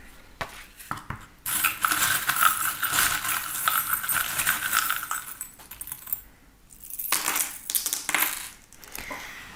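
Small divination charms are cast and tumble together, giving bright, close metallic clinks and jingles in several bursts separated by brief lulls.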